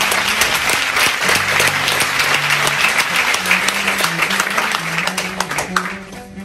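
Audience applause at a literary tribute evening, steady dense clapping throughout while sustained musical tones rise underneath partway in, and a voice briefly surfaces.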